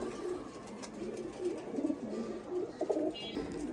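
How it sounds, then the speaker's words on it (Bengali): Pigeons coo softly nearby in repeated low, throaty calls with faint background ambience. "অনেক সুন্দর কবুতর"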